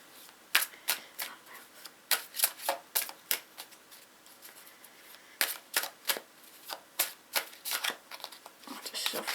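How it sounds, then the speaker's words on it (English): Tarot cards are shuffled close by in quick bursts of crisp riffling snaps, repeated in clusters with short pauses between. "I'll just shuffle the card."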